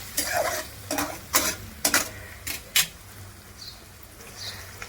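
Onion and tomato sautéing in a pan for paneer bhurji, a low sizzle broken by a series of sharp spoon-stirring scrapes and clacks, about six in quick succession, then quieter frying.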